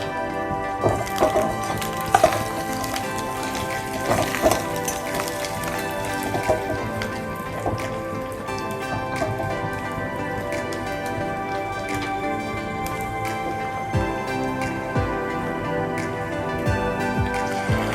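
Green chillies added to onions frying in a pan for a Bengali tilapia fish jhal, giving a continuous close sizzle with scattered pops and spatters, and no talk.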